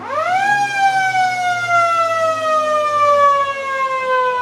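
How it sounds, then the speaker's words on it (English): A long, loud football ground siren at a country Australian rules match rises quickly to a steady wail and slowly sags in pitch, sounding alone over faint background rumble. "Siren goes"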